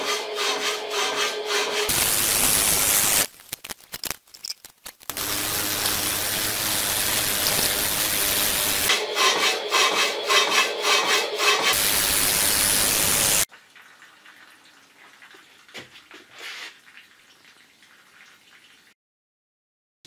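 Power hacksaw cutting metal with a fish tank pump feeding coolant, loud rhythmic rasping strokes in several long bursts separated by brief pauses, then a much quieter stretch of faint mechanical noise.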